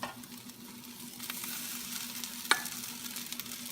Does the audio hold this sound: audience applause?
no